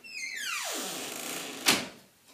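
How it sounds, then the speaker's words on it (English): A door swings shut in a quiet room, a drawn-out sliding sweep ending in one soft, close thud. "Want to close your door for privacy?"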